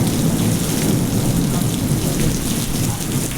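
Heavy thunderstorm rain pouring down in a Gujarat village, a dense, steady roar of downpour with deep thunder rumbling underneath throughout, loud and continuous with no voices.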